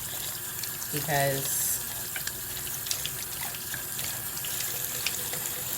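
A bathroom tap runs steadily into a sink while face brushes are rinsed under it, a continuous close splashing stream with a brief voice speaking over it.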